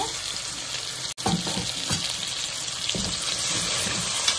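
Tomato and masala pieces sizzle in a pan for goat head curry, a close, bright frying hiss. A spoon stirs and scrapes through it, with a sharp knock just past the first second.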